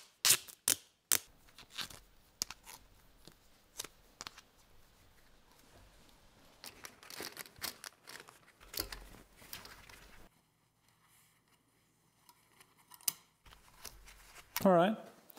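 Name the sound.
tape being torn and applied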